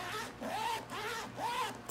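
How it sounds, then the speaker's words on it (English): The zipper of a North Face Access 22L backpack is drawn back and forth in about three quiet, rasping strokes, close up with no talking. "Good zippers."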